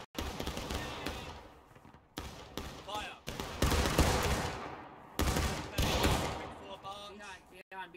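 Musket volleys and scattered rifle shots crack through a large multiplayer battle in the War of Rights video game. Several loud, abrupt bursts cut in between stretches of shouting players and voice chatter.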